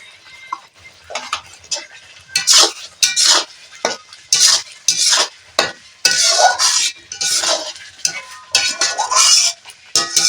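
Potatoes fry in spice paste in a pan for a fish and cauliflower dish with spinach, heard as a close, loud sizzle broken by repeated scraping stirs in an uneven rhythm, with no talking.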